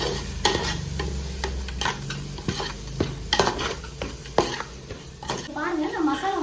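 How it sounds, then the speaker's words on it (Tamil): Masala with salt sautéing in a pan for prawn biryani: close, busy stirring and scraping with soft sizzling, irregular utensil clatter against the pan throughout, no talk. "போட்டு இது சும்மா நம்ம லைட்டாக வதக்கி விட்டுக்கலாம்."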